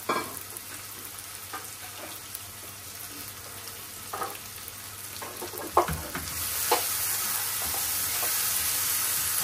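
Whole cinnamon sticks, cardamom pods and peppercorns fry in hot oil for a goat kidney and liver bhuna, making a steady close sizzle with occasional stirring knocks, and the hiss swells louder toward the end.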